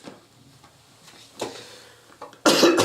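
A person coughs, with a few small scattered throat sounds followed by a sudden loud, harsh burst close to the microphone.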